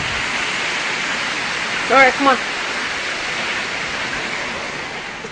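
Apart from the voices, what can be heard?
heavy rain outside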